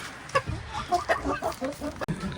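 Hens cluck softly near a small rooster in a coop, with short irregular calls and a few sharper clucks from close by and no talking.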